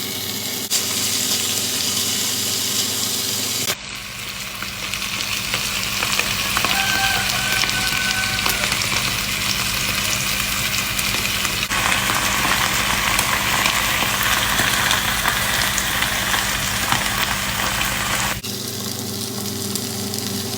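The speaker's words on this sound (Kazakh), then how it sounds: "Сарымай салып қуырамын" Halloumi cheese fries in butter, giving a steady, close, dense sizzle and fine spattering hiss that continues without break for about twenty seconds, with no voices.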